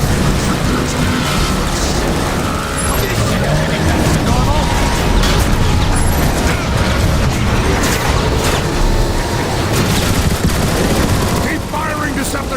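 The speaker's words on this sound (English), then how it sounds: "Keep firing, Decepticons! The turrets are wearing down Omega Supreme's defenses!" Turrets and heavy weapons fire relentlessly in the Transformers War for Cybertron video game, a loud, dense barrage of rapid shots and booming explosions with no pause, while voices are mixed in.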